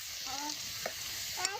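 Onions fry with turmeric and chili powder in a pan, a soft continuous sizzle with faint stirring scrapes.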